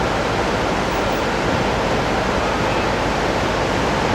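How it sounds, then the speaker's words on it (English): The tidal river at Saint John, New Brunswick rushes outward as a dense, constant broadband roar of moving water, loud and unbroken throughout with no voices. "Now the river is rushing out."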